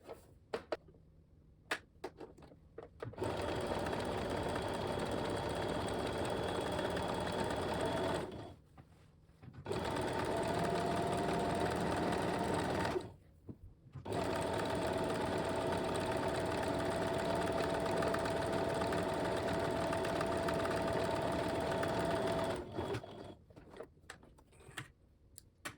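A sewing machine stitches gathering lines on a T-shirt in three long, steady runs of rapid mechanical whirring, separated by short quiet pauses, heard close up with no talk.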